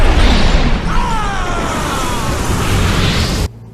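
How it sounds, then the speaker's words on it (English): An explosion in The Grinch (2000) live-action Christmas film: a loud, sustained rumbling blast with a fizzing, crackling tail that cuts off abruptly into near silence. "why is there an explosion in the Grinch?"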